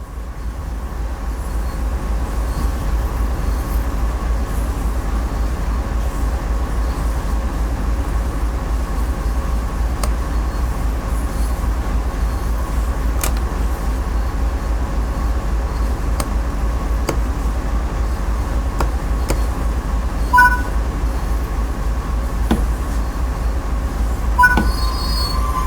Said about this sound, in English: Now bring the train to a stop.